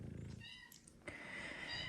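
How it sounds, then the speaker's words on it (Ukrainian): A cat with a large, hard tumour purrs up close, a low rumbling texture that runs steadily under a few soft meows and high-pitched squeaks. "Ти така мурчалка, так."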